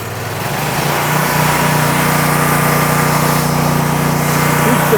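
Stump grinder's small engine revs up after a rough start, settling into a loud, steady high-pitched drone that holds close and constant throughout.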